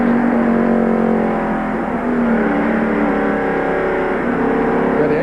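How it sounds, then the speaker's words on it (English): A NASCAR stock car engine held at full throttle during the 1995 Talladega Sears DieHard 500, a loud, steady sustained roar with a strong droning tone that holds constant throughout. "You can hear that motor wide open."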